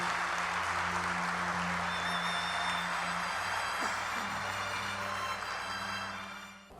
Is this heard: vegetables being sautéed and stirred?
no